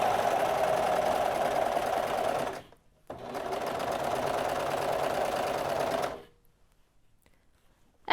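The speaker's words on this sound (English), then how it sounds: "We're going to feed this cotton fabric in here." A Brother 1034D serger stitching cotton fabric runs in a fast, steady mechanical whir, close and fairly loud, stops briefly, runs again for about three seconds, then falls silent.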